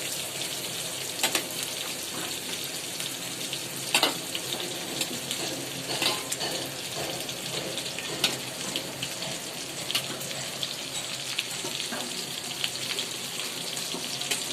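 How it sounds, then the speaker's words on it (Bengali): Water lily stems boil steadily in a kitchen pot, a continuous close bubbling hiss with scattered pops and crackles running on without pause. "এই যে শাপলা আগে সিদ্ধ করা হচ্ছে।"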